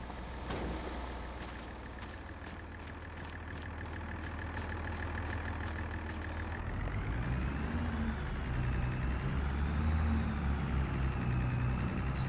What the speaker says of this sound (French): C'est toujours un petit tracteur ancien quand même.